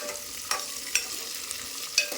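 Green chillies fry in oil in a pan with a steady soft sizzle, broken by a few sharp clicks of a spoon scraping and stirring, and no voices.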